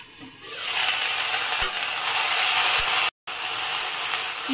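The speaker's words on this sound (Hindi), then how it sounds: "अब इसमें हम इस सहजन को डाल देंगे, इसको हम 5 मिनट भून लेंगे।" Drumstick pods (sahjan) frying in a kadhai give a loud, steady sizzle with soft scraping of a stirring spoon, close by and continuous apart from a brief dropout.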